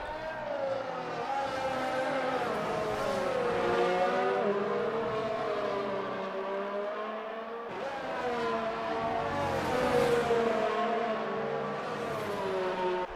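Race car engines in a racing video game on the Hungary circuit, a steady loud droning whine with rising and falling pitch as cars spin their tyres, running continuously for the whole stretch without talk.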